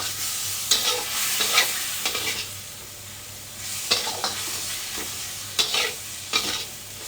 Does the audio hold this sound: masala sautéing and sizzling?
yes